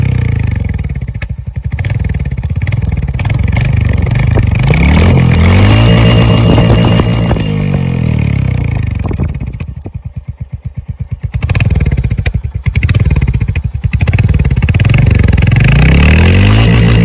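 A new Royal Enfield Hunter 350 motorcycle rides along a road, its engine loud and close with a continuous throbbing note that dips briefly and then builds again.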